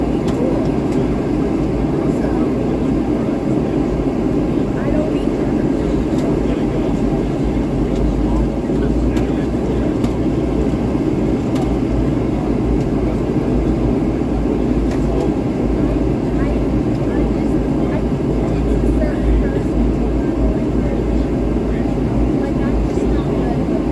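Airliner cabin noise during the descent into Atlanta, a steady, loud, broadband roar of engines and airflow that holds constant the whole time, with no other sounds standing out.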